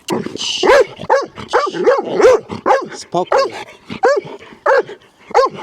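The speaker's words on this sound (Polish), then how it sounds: "O Jezus, jaki ty masz szczek, ty już jesteś dorosły pies." An adult dog barks at a new red toy, loud and close, in a rapid run of about a dozen sharp barks with whimpery yips, while a person speaks over it.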